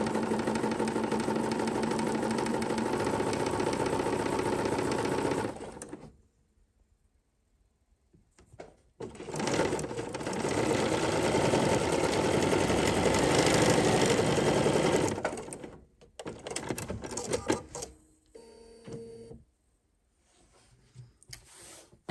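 A sewing machine stitches a French seam in flowing fabric, running in two long, loud, close whirring bursts separated by a quiet gap, then a few shorter stops and starts before it falls silent.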